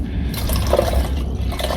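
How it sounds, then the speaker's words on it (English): Nitric acid poured into distilled water in a small container, a steady liquid fill with faint scraping, close and alone without voices for under two seconds. "and here comes the nitric acid"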